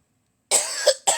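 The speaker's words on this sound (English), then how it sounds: "Forgive me, I got a dry cough today." A woman gives a few sharp dry coughs in quick succession, close and fairly loud, each burst harsh and raspy with no talking around them.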